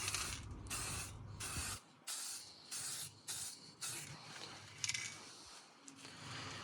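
Aerosol rattle cans spray-paint a Harley Benton DIY guitar kit body, giving a run of close, loud hissing bursts of about a second each, separated by short pauses.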